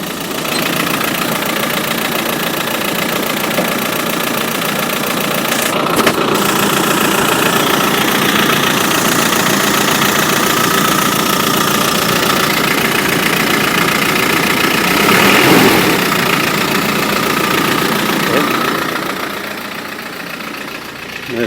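A Land Rover Defender engine idles steadily after its first start, a continuous mid-pitched running drone with a faint knocking texture, fairly loud and close throughout with no talk over it.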